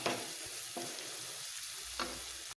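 Fish curry masala with two large tomatoes sautéing in a pan over a raised flame, a steady close, loud sizzle with a few stirring scrapes and no talking.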